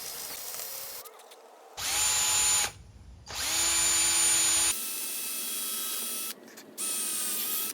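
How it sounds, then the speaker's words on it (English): A power drill whines through wooden stair treads, boring holes for carriage bolts, in several bursts, rising and stopping with short breaks in between. The sound is close and loud. "we're going to drill our holes for the carriage bolts"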